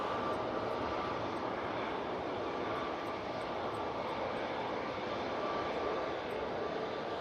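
Aircraft at Manchester Airport during Storm Amy, a steady broadband engine roar with heavy wind noise, constant and moderately distant throughout with no voices.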